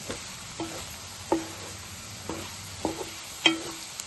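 A spoon scrapes and stirs ground masala into mutton liver frying in a pan, with several brief scraping strokes over a faint sizzle.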